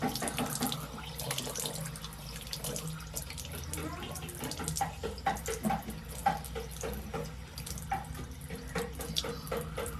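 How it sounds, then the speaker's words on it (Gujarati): A tap runs steadily into a sink while someone washes their face, giving a constant rush of water with splashes and drips throughout and no talking. "માથું સોરી મોઢું ધોઈ નાખીશું"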